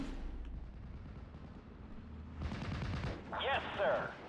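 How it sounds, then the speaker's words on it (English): Sexton self-propelled artillery guns fire in a Steel Division: Normandy 44 battle, a few heavy thumping booms and bursts rising over a low rumbling background, with a couple of louder blasts near the end. "bringing in all of these Sextons"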